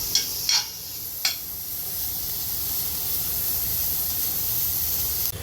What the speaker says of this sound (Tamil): இந்த வெங்காயம் குடமிளகா எல்லாம் போட்டு நல்லா சாட்டே பண்ணிக்கலாம்